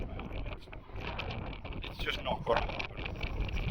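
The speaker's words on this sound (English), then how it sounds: "it is really windy still, as bad as it was last night" Strong wind buffets the microphone in broad, rumbling gusts while a person speaks over it, louder bursts swelling near the end.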